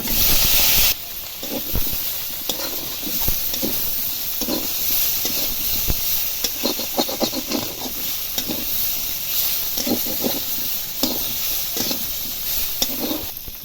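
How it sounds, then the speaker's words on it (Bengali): Yam pieces sizzle and crackle in hot oil with fried onion and garlic, a continuous hiss broken by irregular stirring pops; no voices. "পেঁয়াজ রসুন ভাজা হয়ে গেছে এবার দেব কেটে রাখা ওলগুলো"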